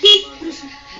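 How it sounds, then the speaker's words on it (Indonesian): Horn on a Honda Beat motorcycle sounding in one short, loud toot during an electrical check, followed by a fainter second blip, with no talk over it. "klakson hidup ya"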